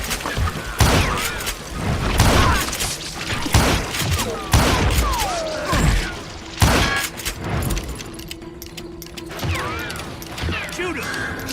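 Gunfire in the Western game Call of Juarez Gunslinger, a series of loud, punchy shots and booms in uneven bursts with ricochet-like whines and mechanical clatter, while voices talk over parts of it.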